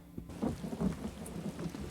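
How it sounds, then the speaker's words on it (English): Rain and thunder in the video game Elder Scrolls Online: a steady wash of rainfall with low rumbling swells, moderately loud and continuous, with no talking. "Or no, it is still raining."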